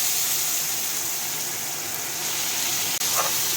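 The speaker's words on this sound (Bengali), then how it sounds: "এবার আমি পেঁয়াজগুলো ছেড়ে দিচ্ছি।" Onions dropped into hot oil with cumin seeds while cooking a Bengali-style pomfret curry, giving a steady, close, broadband sizzle and hiss that carries on without a break.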